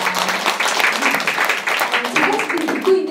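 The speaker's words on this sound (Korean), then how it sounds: "박수 한번 주시겠습니다." An audience at a training session in Ulsan applauds with a steady patter of many hands clapping, while voices carry through over the clapping.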